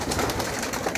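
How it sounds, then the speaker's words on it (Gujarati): Pigeons coo near a rural well, a soft, low cooing in a brief burst against steady outdoor noise. "કબૂતર"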